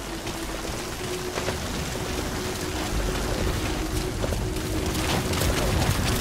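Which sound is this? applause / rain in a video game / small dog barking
rain in a video game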